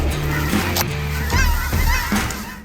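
Several cackling geese honk and cackle loudly nearby in Oregon's Willamette Valley during a goose hunt, overlapping high calls in quick bursts over a rumbling background.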